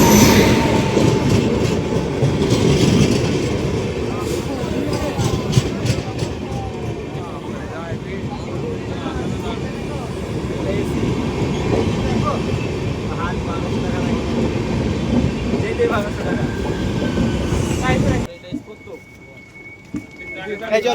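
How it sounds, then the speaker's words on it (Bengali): Kamrup Express passenger train pulling into a railway station: a long, loud rumble with rattling wheel clatter that fades and stops near the end, with people talking on the platform throughout. "তো ঢুকে পড়লো আমাদের স্টেশনে কামরূপ এক্সপ্রেস।"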